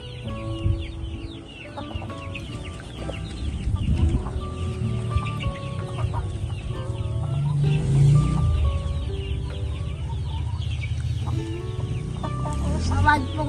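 Backyard chickens cluck and murmur close by while pecking at eggshell and breeder pellet feed, a busy continuous chorus with occasional louder calls.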